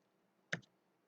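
A computer mouse gives a quick double click, two close, crisp ticks in a single short burst against near silence.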